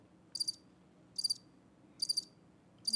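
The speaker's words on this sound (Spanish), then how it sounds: "Ponle los grillos." Crickets chirp in a sound effect, a short buzzy trill repeating about every 0.8 seconds, clear and fairly close over a faint low background.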